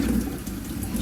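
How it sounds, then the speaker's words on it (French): Tap water runs steadily over freshly pulled plants as the soil is rinsed off, a brief, close, continuous splashing flow with no voices. "Bon, je les rince juste pour enlever la terre."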